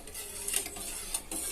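Pepper rasam being stirred in a pot on the stove, with soft scraping and light clinks of the utensil against the pot in an irregular rhythm, close and steady with no talking.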